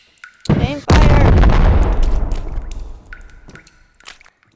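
A gunshot fires in the VR video game Animal Company: one loud, sharp blast with a long decaying rumble, after a smaller pop just before it and faint clicks trailing off.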